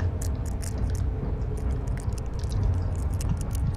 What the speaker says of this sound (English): that crunching sound sounds like bugs eating your brain.